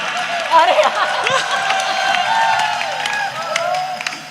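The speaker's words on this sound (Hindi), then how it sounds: "एक बार जोरदार तालियां बजाओ इनके लिए" Audience applause and cheering from a crowd at a poetry recital, steady throughout, with voices shouting over the clapping.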